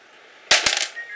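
Dice rolled onto a table for a Warhammer-style tabletop wargame, giving a sharp clatter of a few quick hard taps in a fraction of a second, close and fairly loud in a quiet room.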